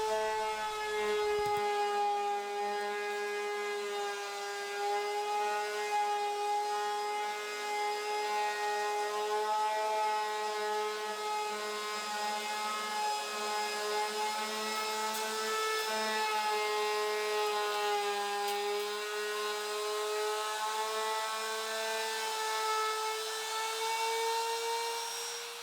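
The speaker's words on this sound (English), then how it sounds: "I did a 45-degree chamfer bevel on this one." A loud, steady high-pitched whine of a router cutting a 45-degree chamfer on a wooden desk edge, continuous and close, holding a constant tone throughout.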